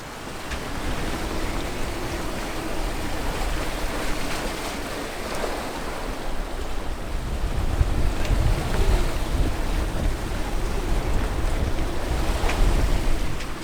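Wind rushes and waves wash steadily against a sailboat at sea running under a small piece of sail near the Canary Islands, a loud continuous roar that swells louder toward the end with no talking.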